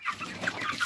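Several chickens cluck steadily in a coop or poultry house at night, a close, continuous chatter of short calls with no talking.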